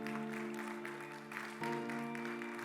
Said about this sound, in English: Now a big round of applause for those ones